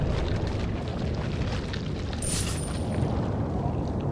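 A fiery burst from an incendiary grenade going off in Resident Evil 4, a dense rumbling roar that holds steady for several seconds with a brief hissing flare midway, with no voices over it.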